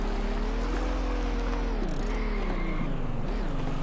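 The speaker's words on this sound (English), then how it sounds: "Oh god, listen to that engine roar." Engine roar from a car in the video game Slow Drive, a steady low droning hum with pitch dips and surges as it revs, continuous and loud throughout.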